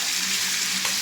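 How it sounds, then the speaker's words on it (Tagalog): Green papaya being sautéed in a pan for ginataang papaya, a dense, steady close-up sizzle with a faint stirring scrape near the end. "Igisan po muna natin siya para malilamlam at mabango ang ating ginataang papaya."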